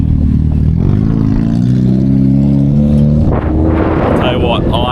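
Excel Cup race cars pull away onto the track, engines droning with a steady low harmonic growl, then revving and accelerating with a rising whine near the end, a voice talking over the mechanical noise.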